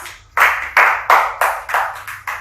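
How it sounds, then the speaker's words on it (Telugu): A group of young children aged three to six at a preschool clapping together, seven or eight loud, rhythmic claps in quick even succession, close by with no talking. "క్లాప్స్."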